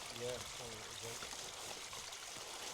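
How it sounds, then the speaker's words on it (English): Small stream flowing along a moorland walking route, steady broadband trickle and splash close by, with a voice talking briefly near the start over the water. "Now we're talking, nice little river, nice little stream"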